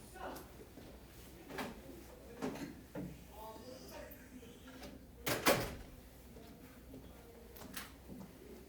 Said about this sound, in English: Felix, can you shut that door for me, please? Do it like extra loud.